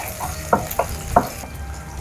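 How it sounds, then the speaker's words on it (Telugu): Thinly sliced onions fry in a pan for brinjal biryani, a steady soft sizzle broken by three or four sharp clinks and scrapes of a spoon stirring against the pan, close up and with no talking. "చిన్నగా పొడుగ్గా కట్ చేసుకున్న ఆనియన్స్ వేస్తున్నా"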